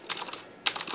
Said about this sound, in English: Razer Black Widow Ultimate mechanical keyboard